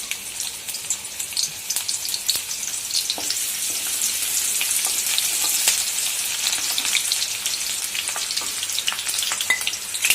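Onion hits hot oil for mutton vajadi, giving a bright, crackling sizzle that holds steady and close throughout, with scattered sharp pops and a few faint stirring sounds.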